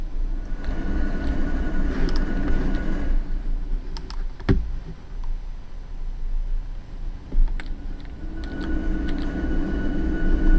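A freight train rumbles steadily through the Run8 train simulator, its low engine drone continuous and fairly loud, with brief sharp clicks and knocks mixed in over the run.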